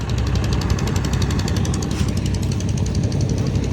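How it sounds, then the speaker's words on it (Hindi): A machine digs and drills for petrol in the ground, a loud, rapid, continuous hammering rattle with a steady pounding rhythm, close by and without talk. "खुदाई कर रहा है पेट्रोल का।"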